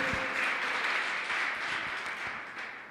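A church congregation applauds continuously during a worship service, a dense wash of clapping that holds steady and then begins to fade slightly toward the end.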